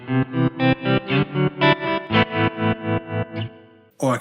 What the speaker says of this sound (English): If I want a really choppy tremolo sound, but I want that faster, I can now tap that in with the tap tempo switch.